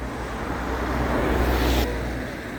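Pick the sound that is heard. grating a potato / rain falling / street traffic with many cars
street traffic with many cars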